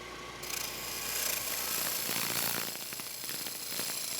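Wood lathe with a turning tool taking a light refining cut on the outside of a bowl, a steady whirring, rubbing scrape that swells after a brief quiet start.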